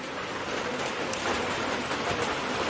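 Heavy rain falls in a steady, dense hiss that stays close and unbroken for the whole stretch, with no voices over it.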